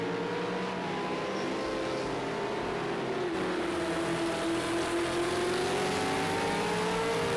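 V8 Supercars racing at Ruapuna Park, engine drone held steady and loud throughout, pitch sliding gently down and back as the cars run, with no voices.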